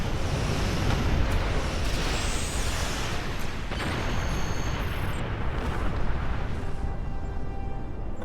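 Starship weapons fire in the space game Star Trek Online, a dense rumbling barrage of blasts and explosions with sharp zaps layered over a constant low roar, loud and continuous.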